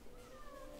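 A cat gives a single faint, drawn-out meow, quiet and a little distant over low background noise.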